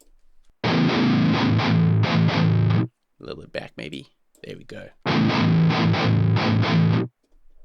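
Heavily distorted electric guitar chords through a Metalzone distortion pedal emulator play in two loud bursts, with someone speaking briefly in between.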